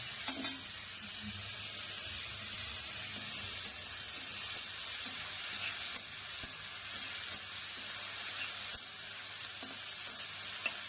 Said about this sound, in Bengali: পেঁয়াজটা ব্রাউন করে ভেজে নেবেন